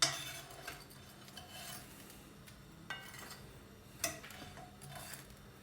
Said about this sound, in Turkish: Ekmeklerimizi servis tabağımıza alıyoruz.